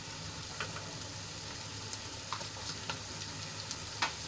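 Chopped tomato sautéing with browned onions for a fenugreek and papad curry, a soft, steady sizzle with light intermittent stirring taps, fairly quiet.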